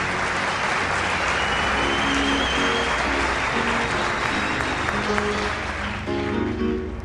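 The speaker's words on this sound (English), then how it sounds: "Give him a big applause, Richard van der Laken" A conference audience at a design event applauds steadily for about seven seconds, a dense, even wash of clapping that stays loud throughout with faint background voices underneath.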